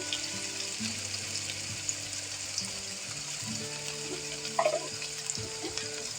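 Masala sautéing in a pan for a hilsa curry with taro, a quiet continuous frying sizzle, soft scraping of stirring and a brief watery splash near the end, with no talk.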